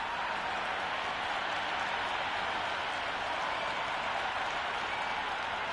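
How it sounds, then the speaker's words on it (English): Dense, steady roar of a large cricket stadium crowd at an India versus Pakistan match before the first ball is bowled, loud and continuous with indistinct cheering and no clear single voices. "this crowd is already making it hard for me to be heard"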